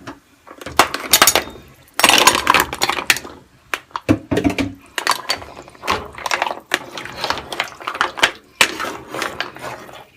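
Mussels tipped into a pot of seafood soup, with repeated bursts of shells clattering and clinking against the metal pot and each other, loud and close, separated by short pauses.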